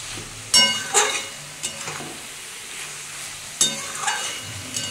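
Bengali-style vegetarian cabbage curry stirred as it fries in a pan, a few sharp scrapes of the spatula over a soft, steady sizzle.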